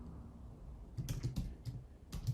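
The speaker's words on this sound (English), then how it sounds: "let's type in the name" Soft, close keystrokes on a computer keyboard come in a quick run of taps, a short pause, then another burst, all fairly quiet with no talking.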